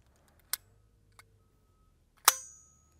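Suppressed .22LR rifle shots with subsonic ammunition through a Dead Air Mask suppressor: two faint sharp cracks, then a louder report with a brief ringing tail, spaced apart against near silence.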